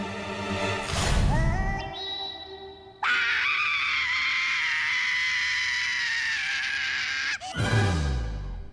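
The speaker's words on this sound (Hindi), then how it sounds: "ये कौन चीखा?" A person lets out a long, loud, wailing scream in a TV drama scene involving an injection, rising sharply and holding steady for several seconds before cutting off, with shorter cries around it.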